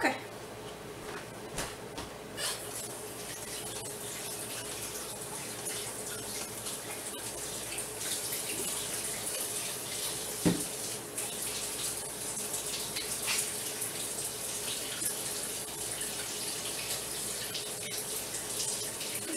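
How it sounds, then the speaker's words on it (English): Hands being washed under a running kitchen tap while making homemade mini slider burgers, a steady broadband hiss of flowing water filling the whole stretch with small splashes and clatters, moderately close and fairly quiet. "Washing my hands again."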